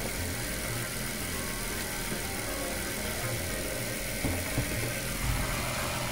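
A Nissan GT-R idling, the last run on its current engine before a build project, giving a steady low rumble with constant vibration, close and fairly loud, with no talk.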